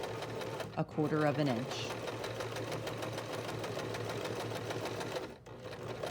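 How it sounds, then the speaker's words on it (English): A sewing machine runs a steady, continuous stitching hum through fabric for several seconds, pausing briefly near the end, with a voice speaking over it at the start. "I can remove my next pin at this point, and I'm going to sew"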